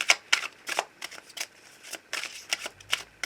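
Tarot cards are shuffled close up in quick, papery overhand passes, a rapid series of soft slaps and swishes repeating without pause over a few seconds.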